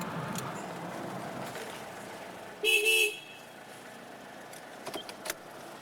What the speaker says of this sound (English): Usually wait about a minute, then give them another beep.